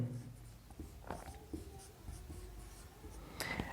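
Chalk or marker scratches across a board in short, quiet strokes, written out as a coding-decoding reasoning word is decoded, with faint room noise and no talk.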